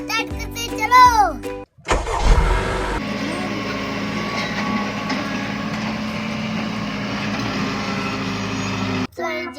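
A JCB excavator engine runs at a dig site where a pit is being dug. A voice is heard first, then a loud, steady mechanical drone holds unbroken for several seconds before cutting off near the end.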